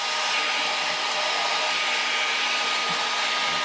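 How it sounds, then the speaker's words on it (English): A vacuum cleaner cleans out the inside of a bathroom fan housing, a loud steady whining roar held for several seconds before cutting off abruptly. "So using my vacuum cleaner here, I'm going to clean out the inside first."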